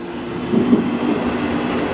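Steady rumble of a train in motion between Fukuoka and Saga, Japan, with a low hum and faint rhythmic rattling, heard from inside the carriage.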